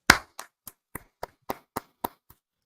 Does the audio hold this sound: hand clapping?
yes